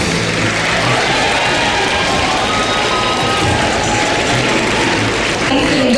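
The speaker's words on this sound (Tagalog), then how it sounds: "masigabong palakpakan at hiyawan ang narinig nang i-anunsyo ang pangalan ni Poe" Loud, sustained applause and cheering from a large crowd at a proclamation event in the PICC, a dense steady roar of clapping that fills the whole stretch.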